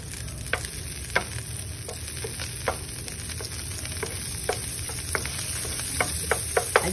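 Luncheon meat frying in butter in a pan, with a steady, even sizzle and sharp spatula scrapes and taps every second or so.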